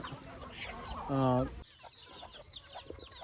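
Several chickens cluck close by in a poultry flock where one bird has coryza eye disease, with a loud burst of clucking in the middle and softer calls around it.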